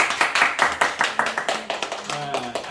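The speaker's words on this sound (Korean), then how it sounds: "우리 박수 한번 쳐야 돼" Hands clap in a classroom, a steady run of sharp slaps from a small group of students, fairly close, with speech-like voices mixed in near the end.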